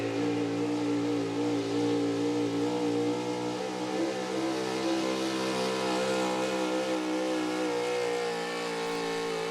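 Early 2000s Dodge gas 4x4 pulling truck with a small-block engine roars loud and steady at high revs throughout, a sustained mid-pitched engine howl with no talk over it.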